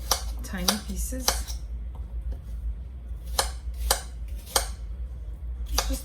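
A knife chops food on a board: crisp, sharp taps in short bursts with pauses between, close by, over a low background hum.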